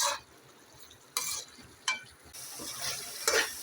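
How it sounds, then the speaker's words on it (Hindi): Minced keema frying over high flame with mixed spices, a steady sizzle broken by several short bursts of stirring and scraping in the pan, with no talk. "इसको हम लोग हाई फ्लेम करके भून लेंगे"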